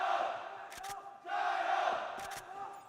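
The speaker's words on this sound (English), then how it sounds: "Baisha cheers going out." An esports crowd at the ACL 2025 final cheers and roars in two loud, sustained swells separated by a brief dip, with sharp bursts cutting through the broad crowd noise.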